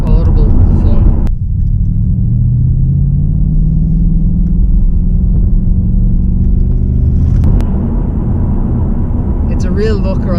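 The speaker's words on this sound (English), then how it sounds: "You've also got that awesome V8 and that down change." A Ford Mustang Bullitt V8 rumbles loudly and steadily with a smooth rising and falling engine note as it changes down a gear, continuous and close throughout.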